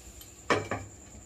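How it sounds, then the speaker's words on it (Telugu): Lid set on a cooking pan, two quick close metallic clanks over a faint steady background hum. "మూత పెట్టేస్తున్నానండి."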